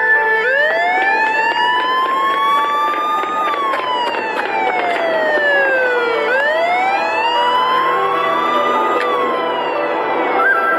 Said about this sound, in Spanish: Cuando iba por la calle, escuché las patrullas tras de mí.